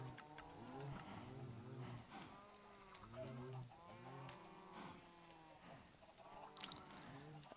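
Several cows at a cow farm in Minecraft moo repeatedly in overlapping, drawn-out calls with rising and falling pitch, a fairly close cluster of lowing that carries on throughout at modest volume.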